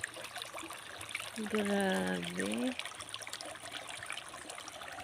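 Clear stream water trickles steadily at a resort in Marcelino, Zambales, a soft continuous wash heard nearby while a man briefly exclaims partway through.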